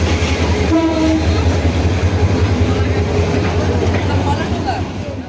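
A long train rolls past on the line to Laksam, a steady loud rumble with a brief horn tone early on, fading slightly toward the end over crowd murmur.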